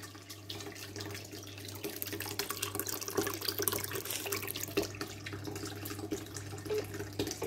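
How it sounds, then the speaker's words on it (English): Water gushes steadily from a pipe while a manually switched electric water pump hums beneath it, the flow constant and fairly close throughout with no speech. "Manual water pump on."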